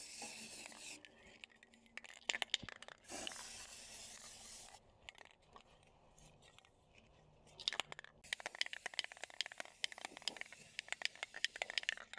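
Spray paint hisses onto a metal cookie tin being made into a hanging planter for succulents, in several close, loud bursts separated by pauses and handling noises.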